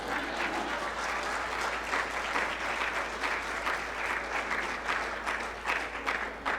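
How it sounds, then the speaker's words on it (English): An audience at a summit claps steadily, a dense, moderately loud wash of applause heard from within the hall, with no talking over it. "You were supposed to clap there."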